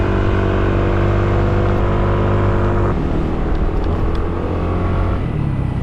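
A car drives a mountain road, its engine a steady loud rumble throughout, with a shift in tone about halfway as it rolls over speed bumps; no voices.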